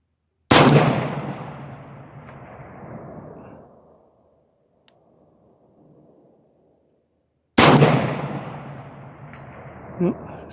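Rifle shots from a .223/5.56 fired at a 20 lb steel plate target 440 yards away, two loud sharp reports each trailing off in a long echo, the second followed by a faint distant impact.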